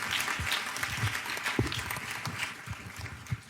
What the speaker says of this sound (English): Can we have another round of applause for the students